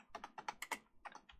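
Quiet, close typing on a computer keyboard during a Minecraft session: quick uneven bursts of light key clicks separated by short pauses.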